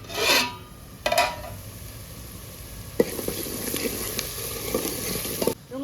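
Egg khima stirred in a frying pan, a steady scraping and rasping of a spatula against the pan over a continuous sizzle, with a few sharper knocks near the start and end.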